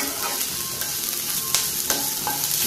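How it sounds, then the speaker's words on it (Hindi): Onion, garlic, ginger and green chilli frying in a pan, a steady close sizzle with a few sharp clicks of stirring, no talk. "ये प्याज भी भून चुका है, लहसुन अदरक हरी मिर्च सभी भून चुका है"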